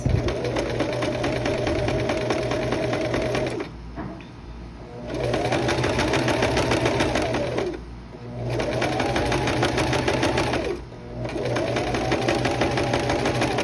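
A sewing machine zigzag-stitches over yarn to gather dress fabric, running in three long, steady buzzing bursts with brief pauses between them, loud and close.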